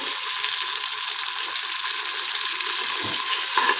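Chopped tomatoes and cabbage sautéing in a pan for a mixed vegetable and pea biryani, giving a steady, loud, close sizzle throughout with faint stirring and no voices.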